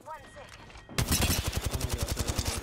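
Rapid gunfire in the video game Apex Legends, with a burst of evenly spaced shots rattling loudly and close; a voice speaks briefly before the shooting starts.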